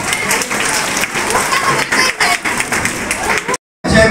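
A crowd at an annual abacus school event claps loudly together, a dense sustained burst of many hands with a few sharper peaks, breaking off abruptly near the end before a short resumption.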